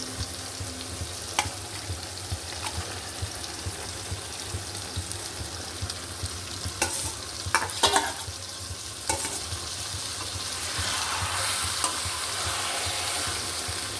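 Hilsa fish and taro stolons frying in a pan, a steady close sizzle with occasional stirring scrapes and clinks of a utensil against the pan, no talking.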